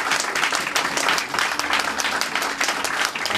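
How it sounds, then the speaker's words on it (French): Church congregation in London clapping loudly and continuously at a hall inauguration service, dense sustained applause with no voices over it. "je veux qu'on acclame le Seigneur très fort pour leur vie"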